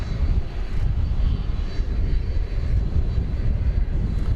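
Airliner taking off from runway 18 left at DFW Airport, a loud continuous engine roar that holds steady and dominates throughout.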